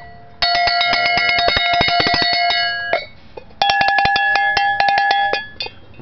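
A vintage cow bell is shaken rapidly in two bursts, loud and close, each a dense run of bright metallic clanks with ringing overtones, separated by a brief pause.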